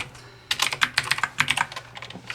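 Someone types Java code on a computer keyboard, a quick close run of light clicking keystrokes in uneven bursts, with no talk.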